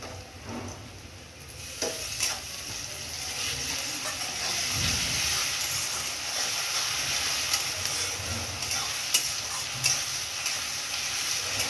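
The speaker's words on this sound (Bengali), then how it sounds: "পেঁয়াজটা হালকা ভেজে নিয়েছি, বেশি কড়া ভাজবো না। এই দেখুন, এবার আমি রসুনটা দিয়ে দেবো।" Garlic fries with lightly browned onion in a pan, a steady close sizzle and hiss with occasional stirring scrapes, continuous throughout with no talk.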